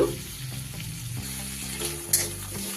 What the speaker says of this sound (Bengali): এবার তেলের মধ্যে দিয়ে দিচ্ছি গ্রেট করা একটু আদা, দিয়ে দিচ্ছি একটা কাঁচা লঙ্কা ঝালের জন্য।